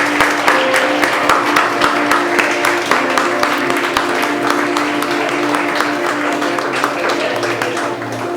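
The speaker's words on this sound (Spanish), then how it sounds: "¿Por qué les dan un aplauso a los papás?" A church congregation applauds the fathers, with steady, loud clapping from many hands running continuously throughout, and a few voices mixed in.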